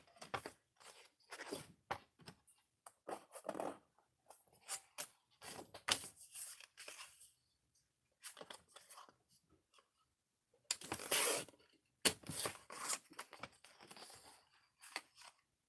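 Scissors labouring through thick junk journal paper, a series of short crunchy snips and pauses, close and fairly quiet.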